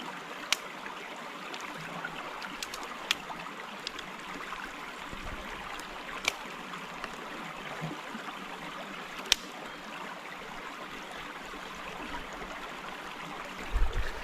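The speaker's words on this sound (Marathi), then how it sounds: "व्हाळाचा आवाज येतो आहे पाण्याचा एकदम मस्तपैकी खळखळ खळखळ" A jungle stream gurgles and trickles steadily at low volume beside a campfire cooking spot, with a few sharp clicks breaking the constant flow.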